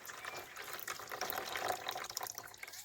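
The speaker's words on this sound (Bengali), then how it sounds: "এই যে লাল জলটা আমি ফেলে দিলাম।" Red-tinted water from soaked grated potato is poured away for homemade cornflour, a faint, close splashing trickle that runs unevenly for a few seconds.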